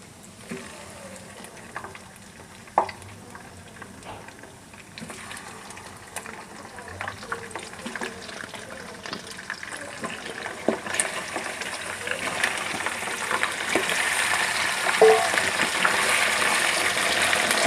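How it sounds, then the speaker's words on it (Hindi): Chicken pieces fry in hot oil with garlic in a pan for a Punjabi chicken gravy, giving a soft, steady sizzle that grows louder and more hissing toward the end, with faint scraping of stirring. "चिकन ऐड करके इसे अच्छे से मिक्स कर लें और चिकन का कलर चेंज होने तक इसे पकाना है लहसुन में।"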